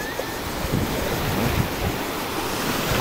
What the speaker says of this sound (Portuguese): As ondas começaram a bater mais lá por causa do barco